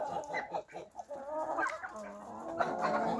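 Turkeys and a few chickens cluck and gabble on a farm at night, a busy overlapping chorus of close and mid-distance fowl calls with no talk.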